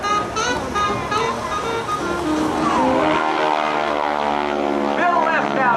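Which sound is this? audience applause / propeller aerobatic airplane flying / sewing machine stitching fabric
propeller aerobatic airplane flying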